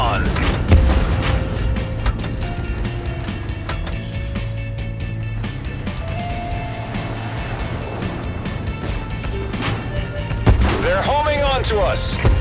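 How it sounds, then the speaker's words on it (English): Artillery bombardment in the tank combat video game Tank Force produces a steady low rumble broken by repeated heavy booms and shots, with radio-style voices heard over the battle noise. "We are under bombardment."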